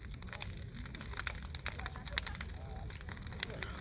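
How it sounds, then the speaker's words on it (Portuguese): A bonfire at a family party gives off quiet, irregular crackles and sharp pops over a low background, with faint voices nearby. "Olha a fogueira."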